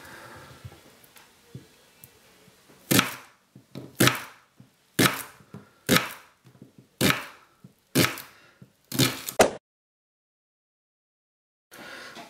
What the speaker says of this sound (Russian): Лук чистим и нарезаем кольцами или полукольцами.